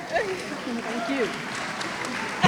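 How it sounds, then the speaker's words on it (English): Applause for council members at a ribbon cutting for the community center upgrades in Winston-Salem, a steady wash of clapping running under a voice that keeps talking over it. "Can we give them a round hand of applause for what they do for our city in Winston-Salem?"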